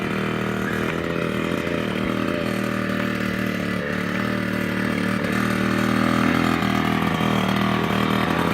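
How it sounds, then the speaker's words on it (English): A 65cc dirt bike ridden in first gear, its small engine buzzing loud and steady with light rattling and slight rises in revs, no talk over it. "Riding a 65 in first gear."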